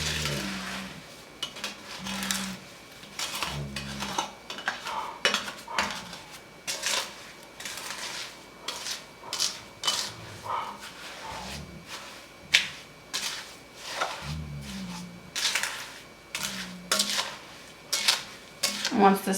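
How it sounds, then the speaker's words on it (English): Peaches with sugar and lemon juice get stirred in a pot for homemade jam, a repeated close scraping and clinking of a utensil against the pot in uneven strokes, with a few pauses between bursts. "Gonna mix this all up, get all that sugar and lemon juice incorporated"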